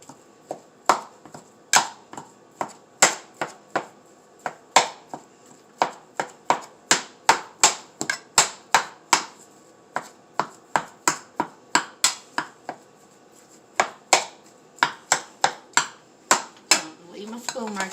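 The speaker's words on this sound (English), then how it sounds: "Chopping up the ground beef and lean ground beef." Ground beef and lean ground beef are broken up in a pan for homemade lasagna, a long run of sharp, fairly evenly spaced utensil taps and chops, close and crisp over a quiet background.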